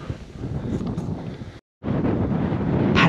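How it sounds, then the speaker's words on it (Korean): Strong wind on a mountain trail near the rocky summit of Hwangmaesan, South Korea, buffets the microphone in loud, gusty roars, cutting out briefly to silence before rushing back even stronger. "바람이 세차게 분다."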